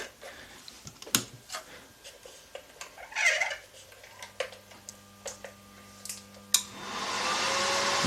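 After scattered clicks and knocks, the small cooling fan of a Tesla MMA 277 welding inverter, repaired after a failed diode bridge, whirs up and keeps running with a steady, soft hiss close by.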